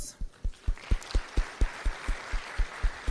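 A slow, rhythmic clap at an occupational health and safety conference, about a dozen distinct booming claps at an even beat, roughly four per second, standing out clearly over a soft background of scattered hand clapping.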